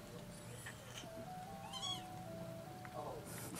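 A distressed cat meows loudly and repeatedly in drawn-out, wailing cries, close by over a low room hum, with several calls spread across a few seconds.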